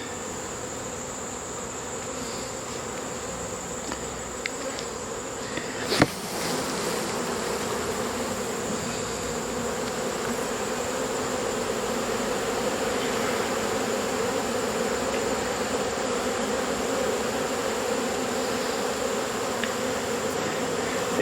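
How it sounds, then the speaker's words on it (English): A swarm of honey bees shaken off from under a screened bottom board gives a dense, steady buzzing drone, loud and close, with one brief knock partway through. "Ready for a cloud of bees."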